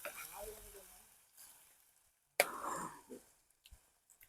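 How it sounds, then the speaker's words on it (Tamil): Rock fish frying in hot oil in a village kitchen, a quiet sizzle that swells suddenly after a pause, with a few soft clinks near the end and brief talk at the start. "கொஞ்ச நேரம் பொரியட்டும் அப்படியே இந்த எண்ணெயில"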